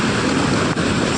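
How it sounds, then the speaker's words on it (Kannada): The Halavagilu waterfall sends water rushing down forcefully, a loud, continuous broadband roar close by, with no talking. "ನೀರು ಮಾತ್ರ ತುಂಬ ಫೋರ್ಸಾಗಿ ಬರ್ತಿದೆ"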